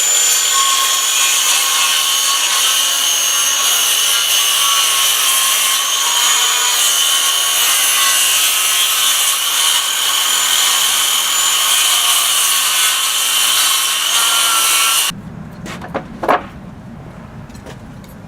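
A loud, continuous high-pitched whine of a router cutting a wooden door jamb for hinges, steady throughout, then abruptly stopping and leaving faint clicks and handling noises.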